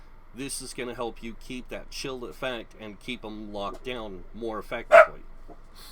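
A dog barks once, sharply and fairly close, near the end of steady talk over a game session, the single bark standing out briefly above the speaking voice.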